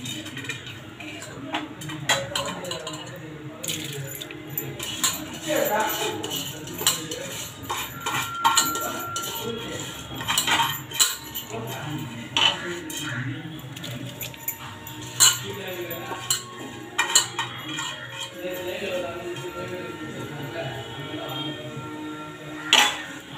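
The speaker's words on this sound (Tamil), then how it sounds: "நல்லா கிளறி விட்டுக்கோங்க." Chicken biryani gets stirred in a pot, a spoon clinking and scraping against metal in irregular bursts throughout, with kitchen clatter and some background voices.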